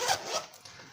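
A zip on a Filofax Metropol personal-size zip organizer being pulled open, a quick soft rasping run close by, heard alone.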